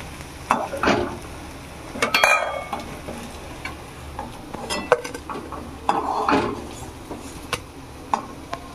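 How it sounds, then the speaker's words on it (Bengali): Banana flower fritters fry in hot oil, giving a steady low sizzle broken by sharp clinks and scrapes of a utensil against the pan, close and fairly quiet with no talking. "দিয়ে সব বড়াগুলোকে আমি একইভাবে ভেজে নেব।"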